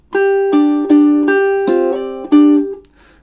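Bright plucked ukulele notes play a short melody, five or six distinct plucks each ringing briefly, close and clear with no voices.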